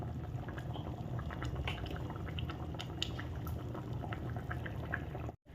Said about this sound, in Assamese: এতিয়া এইখিনি পুনৰ 2 পৰা 3 মিনিট সময় উতলিব দিম।